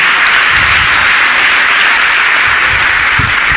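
A church congregation applauds, a dense, loud, continuous wash of clapping that holds steady from start to finish with no voices over it.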